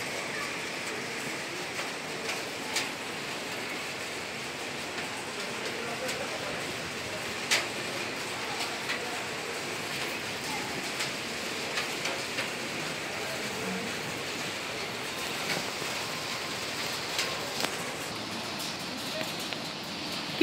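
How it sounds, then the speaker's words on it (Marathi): Rain falling outside a home in a continuous soft hiss with scattered droplet ticks, steady and moderately close, lasting throughout with faint background activity. "बाहेर पाऊस येतोय. आमच्याकडे पाऊस पडतोय आता."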